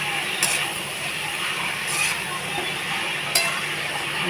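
Chopped ash gourd goes into a pan of spice paste frying in oil, giving a steady close sizzle broken by a few sharp metallic clinks of a utensil against the pan; no one speaks.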